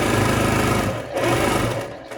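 A sewing machine stitches through foam pieces for a cat pod, its loud steady motor whir running close and continuous with a brief dip midway before resuming.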